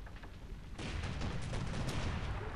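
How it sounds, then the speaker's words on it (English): Cannon fire from enemy ships in Sid Meier's Pirates: a low rumble that breaks into a loud, sustained barrage of booming shots and crackling blasts, close and heavy. "Stop shooting at me, please."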